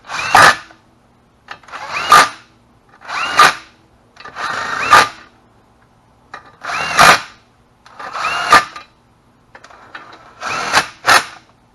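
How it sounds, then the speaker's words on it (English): Impact wrench running engine head bolts down snug with a 12mm socket during an EZGO golf cart engine rebuild, sounding as about eight loud, short bursts evenly spaced with brief pauses, the last two close together, no talking. "I'm going to put my 12mm on the impact. I'm just going to run them down snug"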